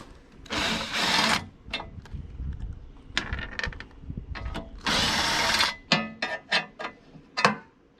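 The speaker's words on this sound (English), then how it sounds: "put your Allen wrench on there so that you can remove these 13 millimeter nuts from the Allen bolt" Allen wrench working loose 13 mm nuts on the blade bolts of a Predator chipper/shredder, heard as bursts of ratcheting and metallic clicking with scattered sharp taps, close and fairly loud, no talking.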